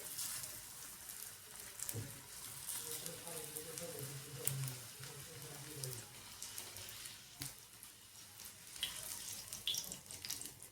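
Cutlets sprinkled with sesame seeds sizzle faintly in a pan as a steady, soft hiss, with occasional light clinks and someone talking quietly over it.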